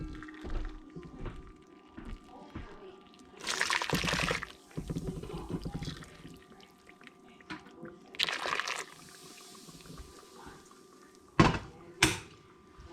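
Boiling water pours into a bowl in two bursts of splashing, each a few seconds long, with a few knocks and clinks in between and at the end.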